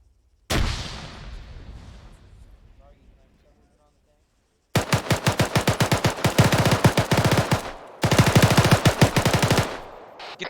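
Automatic weapon fire in the military shooter ArmA 3: a loud single blast that decays, a short silence, then two long rapid bursts of close, hard-hitting rounds in a steady machine-gun rhythm.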